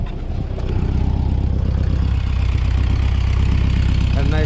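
A Volkswagen Beetle engine idling just after a cold start. Its low, throbbing, evenly pulsing rumble is heard up close and steady throughout, with a slight rise in level after the first moment.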